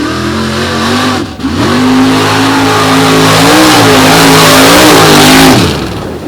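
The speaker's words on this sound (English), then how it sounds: "Nora rolls into stage, purges the nitrous" An unlimited class drag race car makes a run at a 2022 event, its engine roaring loud and close in one sustained blast, the pitch dipping briefly and then climbing and shifting before it fades at the end.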